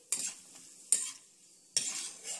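A spoon lifts roasted cashews out of hot ghee for rava laddoo, making three short scraping clinks against the pan, each followed by a soft fading sizzle. The sounds are close but quiet, with near silence between them.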